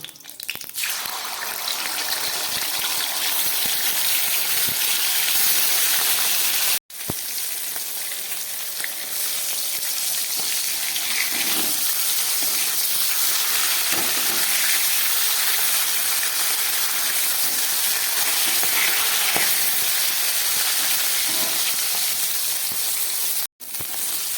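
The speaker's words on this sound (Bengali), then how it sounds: "মাছগুলোকে একটু ভেজে নেব" Pieces of fish frying in hot oil in a kadai make a loud, steady, close sizzle. It carries on almost unbroken, with only two brief cuts to silence.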